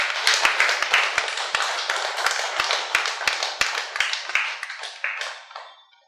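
An audience at a meditation gathering claps to welcome a speaker, with a burst of lively, fairly close applause that thins out and fades to silence near the end.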